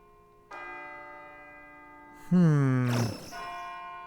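Church bell ringing in the video game Persona 3 FES: a sustained metallic tone rings out, then a louder, lower struck bell swells and decays before a softer ringing tone continues alone.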